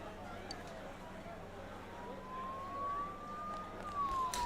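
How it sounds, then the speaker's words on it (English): Emergency sirens wail during a Persona 4 Golden game stream, a faint rising tone that swells louder toward the end over a low background hum, with speech present. "Don't those sirens sound really close?"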